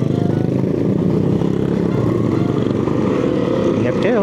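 Motorcycles riding past on a road by riverside cottages and campsites in Norzagaray, Bulacan, with a loud, steady engine drone throughout and voices talking over it.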